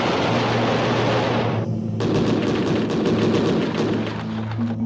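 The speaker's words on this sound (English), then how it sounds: "The powerful 6-barrel cannon deserves a separate attention." A six-barrel aircraft cannon fires in a dense roar of rapid, continuous shots that crackle out to a sharper burst midway, loud and steady throughout with no voices.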